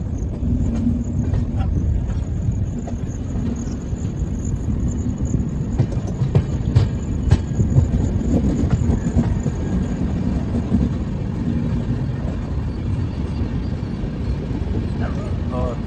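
The Puri Howrah Shatabdi Express runs on the tracks with a steady, loud rumble and faint rhythmic wheel clatter throughout, and someone talks over it.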